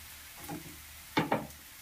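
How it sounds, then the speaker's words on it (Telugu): Onions and chopped green chillies frying in a pan for egg bhurji, a faint low sizzle with two or three soft stirring scrapes near the end. "వేసి ఒక 2 మినిట్స్ ఫ్రై చేసుకోండి"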